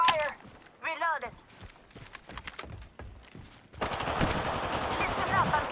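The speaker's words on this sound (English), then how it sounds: "Listen up, I'm getting shot at." Rapid video-game gunfire bursts into a dense, loud, sustained volley in the second half. Before it, a voice talks over quieter game sounds.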